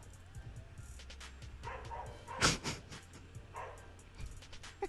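A dog barks a few times in a room, yappy mid-distance barks, one sharper and louder than the rest, set against low background hum and faint murmuring.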